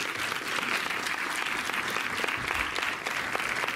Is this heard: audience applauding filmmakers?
yes